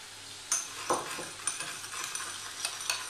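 A vinegar, salt and white pepper dressing is stirred in a bowl, giving soft scraping swirls with a few light clinks of the utensil against the side, close and fairly quiet.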